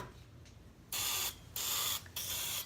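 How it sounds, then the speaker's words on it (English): A hand-pumped olive oil spritzer fires three short bursts of fine mist, each about half a second of loud hiss separated by brief pauses, after faint pumping clicks. "my spritzer, you put the olive oil in there, give it a couple pumps, and it automatically turns it into aerosol"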